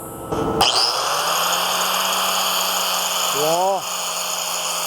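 A 4-inch or 7-inch angle grinder fitted with a BTK one-touch coupler starts up with a sharp whine and runs steadily and loudly, with a brief rising squeal near the end as it cuts.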